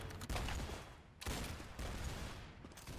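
Rifle fire in the Roblox game TC2 comes in three dense, loud bursts of rapid shots, each sustained for about a second with brief gaps between them.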